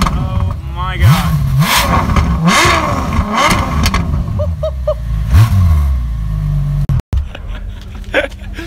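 A Ferrari F12 TDF V12 is blipped repeatedly, sharp rising revs that snap back down, with voices and crowd chatter around it and a brief dropout near the end.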